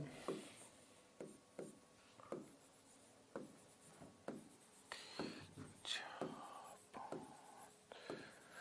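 Chalk or marker strokes on a board during a maths lesson: a close, rhythmic series of short scratchy taps and longer swipes, with a low voice murmuring at times.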